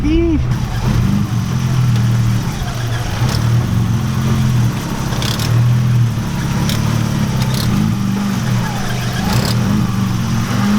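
A BMW E30 with an upgraded short shifter drives along, its engine a steady, close, droning hum with a few small shifts in pitch throughout.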